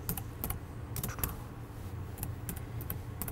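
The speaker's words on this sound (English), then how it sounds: "So we will type in cardiovascular." Fingers tap out a short word on a computer keyboard in quick clustered bursts of crisp key clicks with brief pauses, close and moderately quiet, no speech.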